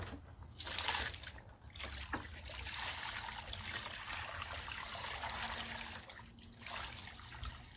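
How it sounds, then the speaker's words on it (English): Water pours to rinse cement off a tool while a cement path is being made, a continuous trickling splash at close range, fairly quiet and steady throughout. "So I'm just going to go ahead and put some water in here."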